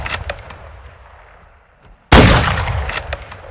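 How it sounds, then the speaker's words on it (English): A single loud incendiary sniper round fires up close in a multiplayer video game, a sharp crack with a long decaying tail after a quieter stretch of scattered game noise. "Why are you using incendiary rounds?"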